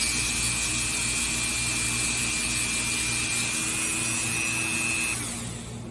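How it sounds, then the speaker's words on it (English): A Dremel rotary tool spins a carving bit while a brass brush is rubbed against it, giving a steady close high whine and hiss for about five seconds before it starts to wind down. "take a brass brush and turn my Dremel on, and I'm going to clean it"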